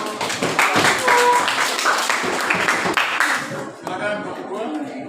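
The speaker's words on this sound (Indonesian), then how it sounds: "Kita tepuk tangan untuk kelompok 2 dulu." Classmates clap together in a classroom for a student group about to present, a dense patter of hands throughout, with voices talking over it near the end.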